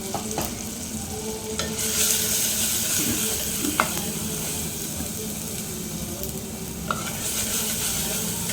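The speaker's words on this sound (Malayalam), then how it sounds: "ഉപ്പും ചേർത്ത് കൊടുത്തതിന് ശേഷം നമുക്ക് വീണ്ടും നന്നായിട്ട് മിക്സ് ചെയ്ത് കൊടുക്കാം" Turmeric and salt are stirred in a hot pan for a tomato yoghurt curry made without coconut, giving a constant oily sizzle broken by occasional spoon scrapes and clinks, close and steady with no talk.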